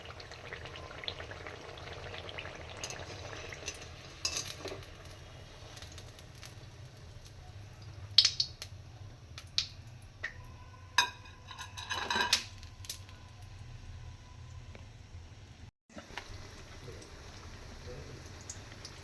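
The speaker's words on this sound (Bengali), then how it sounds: "পটল ছোট ছোট বেগুনের মতো কেটে তেলে আমি ঠিক এইভাবে ভাজছি।" Slices of pointed gourd, cut like eggplant fritters, fry in hot oil with a steady low sizzle, broken by occasional clinks and scrapes of utensils nearby.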